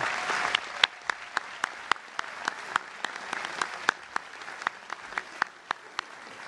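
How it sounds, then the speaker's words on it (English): Commencement audience at Amherst College applauds honorary degree recipients, soft steady clapping from a distant crowd with a few sharper, closer claps standing out in a loose rhythm. "Please join me in a round of applause for all of our honorary degree recipients today."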